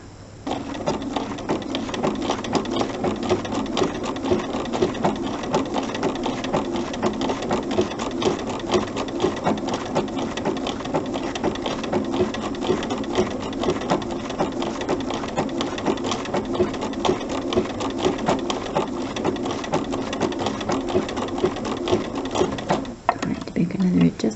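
A sewing machine runs steadily while appliquéing fabric with a back-and-forth zigzag stitch, a continuous close whirring rhythm lasting nearly the whole stretch with a brief pause near the end; a voice talks over it.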